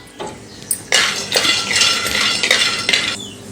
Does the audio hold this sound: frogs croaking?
no